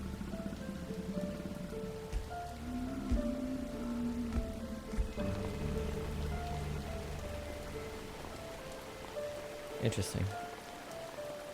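Steady rain falls in a video game, a continuous hiss with occasional louder drip impacts, while a person speaks briefly over it.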